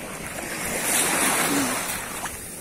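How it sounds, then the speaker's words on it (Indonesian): Ocean surf at a white-sand beach with coral and clear water at Ujung Genteng, Sukabumi: a wave swells and washes in loudly, rushing and hissing close by, with wind buffeting the microphone and no voices. "Ombak."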